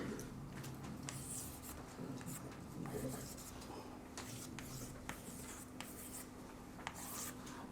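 A heading is being written on a board, with faint scratchy strokes and taps at an irregular pace over a low steady hum, and a voice talking now and then in the background.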